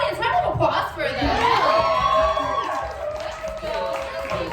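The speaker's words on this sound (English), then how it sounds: "audience, round of applause for them" Audience applause and cheering at a dating show taping, a crowd clapping steadily with whoops and shouts mixed in, loud and sustained throughout, with voices rising over the noise.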